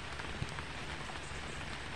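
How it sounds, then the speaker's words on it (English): Steady rain falling outdoors, a soft continuous patter and hiss at low level with no voices. "going that way through the rain"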